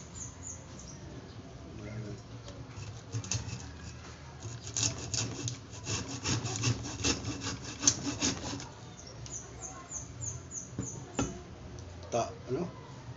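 A hand saw rasps back and forth in steady strokes through wood, close up, with voices talking intermittently in the background.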